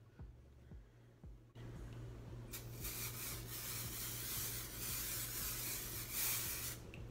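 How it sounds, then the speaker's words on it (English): A continuous hissing spray of an aerosol dry shampoo can onto hair roots runs for several seconds close up, after some faint rustling. "And spray it on there."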